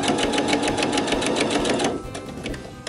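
A sewing machine stitches a diagonal X across the ends of tote bag straps with a fast, steady rhythmic clatter, loud and close. It stops briefly near the end, then restarts.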